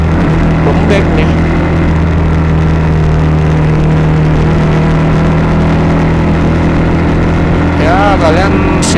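A Suzuki GS motorcycle fitted with a Racefit slashcut aftermarket exhaust runs nearby, a deep steady throbbing drone that holds mostly even without sharp revs, with someone talking over it at moments.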